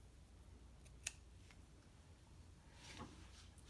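Ribbon scissors snip through ribbon at an angle in a quiet room, with one sharp, close cut early on and a softer rustle of handling later.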